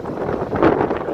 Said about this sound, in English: well it's been 24 straight hours of ridiculously windy weather here in Mildura.